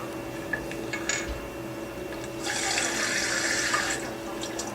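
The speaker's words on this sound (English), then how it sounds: "we're going to drain half of the water from the water tank. Just loosen up this drain hole." Water drains from the loosened drain hole of a water tank, a steady hissing trickle that swells into a louder, continuous gush partway through, heard up close with no talking.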